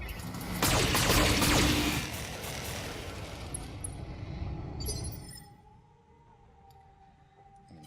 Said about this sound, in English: we fire everything that we've got selected